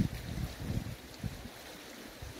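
A village stream flows beside a garden with tulip beds, a steady outdoor rush of water with low rumbling gusts, moderately loud and continuous.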